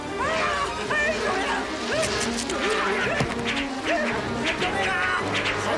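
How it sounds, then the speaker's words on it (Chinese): A swarm of bees buzzes loudly and continuously with busy whirring tones, while people shout in panic over it. "好多蜜蜂！"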